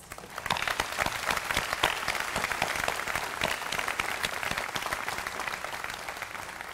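A commencement audience at a law school graduation claps steadily, a dense sustained round of applause filling the hall at full volume from start to finish.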